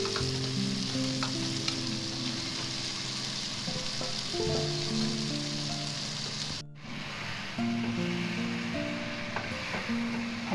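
Fried arbi frying and being stirred in masala in a pan. A continuous loud sizzle runs under scraping stirring strokes, broken by a brief dip near the end, with no talk.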